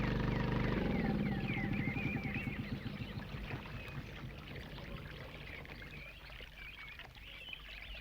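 A boat comes ashore in a Malayalam film scene. A loud engine-like drone fades over several seconds into lapping and churning water, with no talk.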